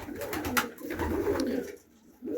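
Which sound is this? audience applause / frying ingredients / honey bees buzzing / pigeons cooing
pigeons cooing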